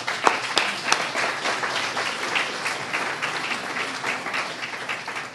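Steady applause from an indoor audience at a French-language funding success event, dense continuous clapping with a few sharper claps early on, holding at an even level throughout.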